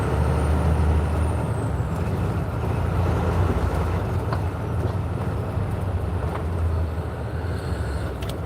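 A truck on a winter road rumbles past close by, a loud, steady, low engine and tire roar with a faint hiss of air brakes, continuous for over eight seconds.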